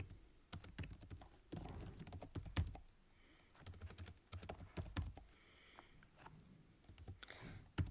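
Typing a line of text on a computer keyboard, quick bursts of close key clicks separated by short pauses, quiet and without voices.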